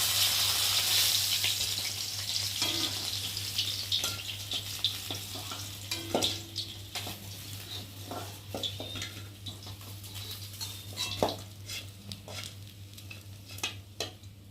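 Pieces of rohu fish fry in hot oil in a pan for curry, a steady sizzle that fades slightly over time with scattered clinks and scrapes of a utensil, close and alone with no talking.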